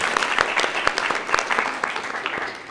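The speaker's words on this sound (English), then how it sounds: "Let's give them a nice round of applause." An audience at a 7th and 8th grade county spelling bee claps in a dense, lively round of applause that runs the whole time and fades slightly at the end.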